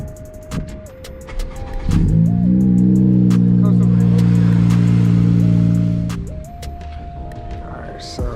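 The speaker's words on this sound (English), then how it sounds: "Give you guys a little cold start." A 10th-gen Honda Civic Si cold start: a starter whirr, then the engine catches and settles into a loud, steady, rumbling idle with a high fast-idle tone for several seconds before shutting off, among quieter outdoor sounds.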